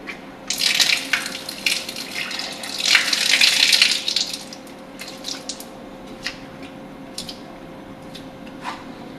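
Tap water poured and splashed over hands and arms during wudu washing, with bursts of splashing that swell and then fade to quieter trickles and drips.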